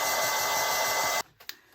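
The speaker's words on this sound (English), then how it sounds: "And out with the hairdryer." A hairdryer blows steadily and loud, drying paint on a balloon lamp for about a second, then cuts off abruptly, leaving a few faint clicks and handling noises.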